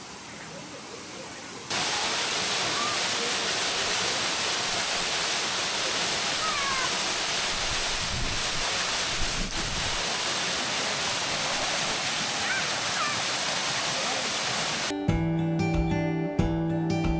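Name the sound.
Agathiyar Falls waterfall, strong flow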